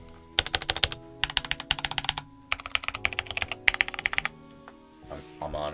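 Crisp bursts of typing on an Ajazz AK873 three-mode TKL mechanical keyboard with stock switches and foam inside, several rapid clacking runs separated by short pauses, close and clear with no talk over it.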